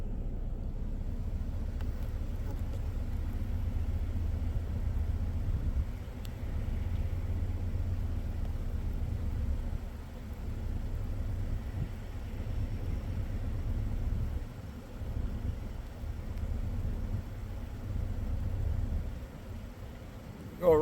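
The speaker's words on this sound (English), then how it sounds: "this last train that I mentioned though that's been sitting down here he's designated as M363. So he's a rolling here." CSX freight train M363 rolls past on a chilly rainy day on the New Castle Line, a steady low rumble with light wind noise holding for the whole stretch, fairly close and without talk.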